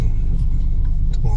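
Steady low engine rumble and road noise from inside a car on a road trip, continuous and fairly loud throughout with no talk.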